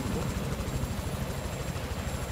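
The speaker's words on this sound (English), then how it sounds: "I took an attack helicopter." An attack helicopter in Battlefield 4 on the Golmud Railway map fills the scene with a steady, loud rotor thump and engine drone, with no break for the whole stretch.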